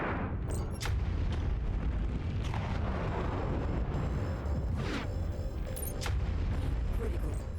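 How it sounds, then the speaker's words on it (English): Missile explosions in MechWarrior 5: Mercenaries, a series of muffled booms and bursts scattered over a continuous low rumble of mech combat, fairly distant and steady in loudness, with brief sharper pops throughout. "A lot of missiles going at this one."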